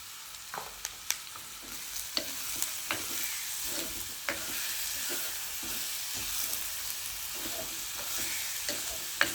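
Onion and tomato sauté in a pan for a home-style ivy gourd curry, a steady sizzle broken by regular scraping stirs and light clinks of a spoon, with no talk.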